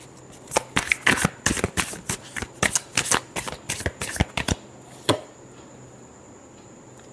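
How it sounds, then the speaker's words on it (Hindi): Tarot cards are shuffled by hand in a quick run of crisp riffling snaps and slaps, about a dozen bursts over four seconds, then one last tap after a pause, close and clear. "Last shuffle."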